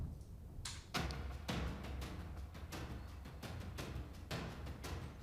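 A drum track with strong, evenly spaced hits, sharp attacks ringing out over a low boom, played cleanly with no talking.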